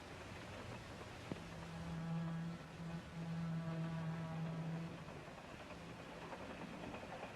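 Low, steady rumble inside a moving train from the 1943 film Spy Train, with a sustained hum and faint clatter running throughout, no voices.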